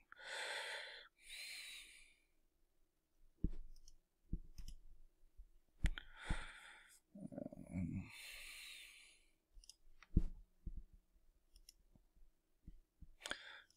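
Computer mouse clicks while working in an online form, a few sharp isolated clicks scattered among breathy sniffs and soft handling noises, quiet and close.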